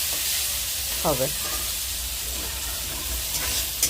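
Onions fry in a pan with a steady, close, bright sizzling hiss that carries through the whole clip, while a voice speaks briefly.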